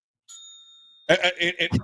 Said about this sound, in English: I got the bell over here.